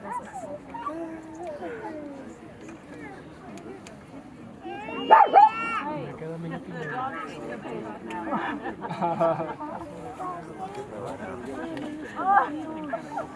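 A dog yips and whimpers in short, high bursts, fairly close, while people talk throughout.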